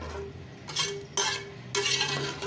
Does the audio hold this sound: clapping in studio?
no